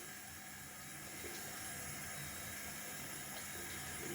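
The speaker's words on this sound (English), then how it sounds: "I'm just trying to rinse out my soap container, making a mess down here in the sink. Sorry about the running tap." Tap water runs steadily into a bathroom sink while a soap container is rinsed, a constant soft hiss and rush with no pauses.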